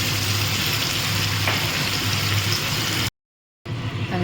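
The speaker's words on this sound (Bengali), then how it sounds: "এবার আমি মশলাটাকে এর মধ্যে দিয়ে দিলাম, দিয়ে ভালোভাবে আমি কষিয়ে নেব" Spices being sautéed into already fried potatoes in a pan for a cabbage omelette curry, giving a steady, close sizzle and crackle that runs without talk before cutting out briefly.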